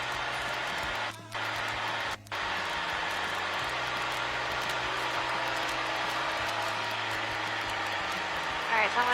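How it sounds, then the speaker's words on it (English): Enstrom helicopter in flight near a runway, its engine and rotor giving a steady broadband drone with low tonal hum throughout, briefly interrupted by two short dips, while people speak over the intercom. "All right, so I'm going to do a left pedal turn."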